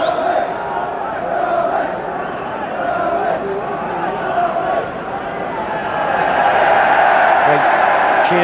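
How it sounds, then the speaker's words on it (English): A football stadium crowd at West Bromwich Albion versus Nottingham Forest in 1993, cheering a substitution: a broad, sustained roar of many voices that swells louder toward the end, with a commentator talking over it. "Cheers from the crowd"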